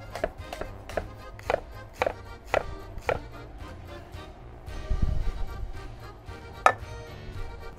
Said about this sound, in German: nehme ich mir den Lauch, halbiere den einmal und schneide den hier dann so runter, einfach so, ja, so halbe Scheiben.